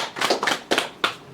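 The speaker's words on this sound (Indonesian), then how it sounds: "tepuk tangan dulu terhadap kita semua" A few scattered hand claps from a small group at an official meeting, sounding in three or four short bursts at close range before trailing off.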